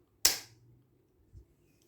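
A Peterson plug spinner releases with one crisp, sharp snap close by, decaying quickly, followed by a faint dull thump a second later in an otherwise quiet space.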